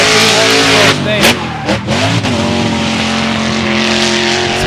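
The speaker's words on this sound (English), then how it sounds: "that V8 power is roaring here in Mondello today" A V8 drift car roars loudly at Mondello during Irish Drift Series Pro2 qualifying, the engine sustained and harsh with sharp revs and bouncing pitch swings as it slides past, with a commentator talking over it.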